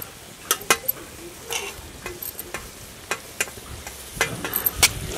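Mint leaves sautéing with salt and turmeric in a pan, a soft continuous sizzle broken by repeated sharp clicks and scrapes of a spatula against metal, fairly close, with no talking.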